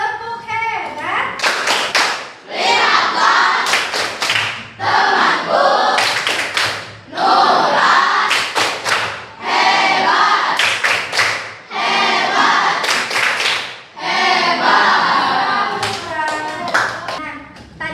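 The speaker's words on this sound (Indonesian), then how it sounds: "Kita kasih tepuk hebat untuk Nura." Classroom of sixth-grade primary school children clapping for a student after her speech, several loud rhythmic bursts of applause with short pauses between them, some voices mixed in.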